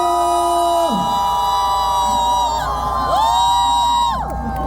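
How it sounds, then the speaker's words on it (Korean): Crowd at an outdoor trot concert during a Gwangju kimchi festival, with cheering and whoops heard under sustained tones and sliding pitches, like music or feedback, in a continuous festive din. "박수!"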